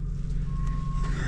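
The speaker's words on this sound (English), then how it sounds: "I hear something beeping." Steady electronic beeping from a reversing vehicle in a Walmart parking lot, a single sustained tone over low engine rumble and outdoor background noise.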